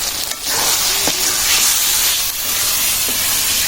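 Ground spices, including coriander powder, frying in a pan for a taro laddu dish, a loud continuous sizzling hiss close up with a few faint clinks.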